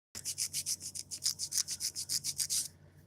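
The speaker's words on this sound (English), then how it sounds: "So we can start filing on these and we won't have to file very long." An 80 grit file rubs over acrylic C curve nail tips in quick, even back-and-forth strokes, about a dozen close, rasping swipes in a steady rhythm before stopping.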